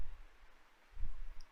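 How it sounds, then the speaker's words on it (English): A single computer mouse right-click lands softly and close against a quiet room background, with a faint second tick just after. "Just right click on it,"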